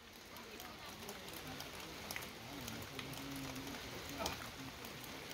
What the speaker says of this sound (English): The rain continuing to fall steadily here